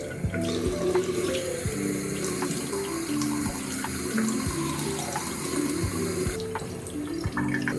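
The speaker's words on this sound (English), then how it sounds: "I'm gonna wash my face." A bathroom tap runs steadily at night as water splashes into a sink during face washing, a close continuous rushing flow with small irregular splashes and no talking.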